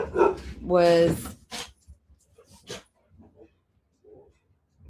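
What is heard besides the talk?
dog barking at people walking past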